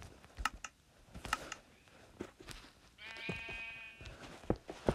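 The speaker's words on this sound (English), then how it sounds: "Oh, pink sheep." A sheep in Minecraft Pocket Edition gives a clear wavering bleat midway, amid close, repeated clicking and tapping of blocks being placed.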